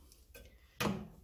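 A button is pressed on a Parkside PMTS 180 A1 1280 W metal cut-off saw: a faint click, then a louder, close, hollow knock that rings briefly, all in a quiet room with no talking.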